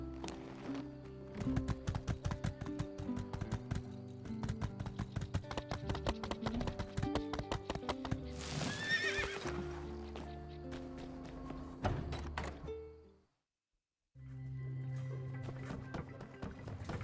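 Horse hooves clip-clop in the game My Time at Sandrock, a steady run of footfalls over looping background music, with a brief pause near the end before the music resumes.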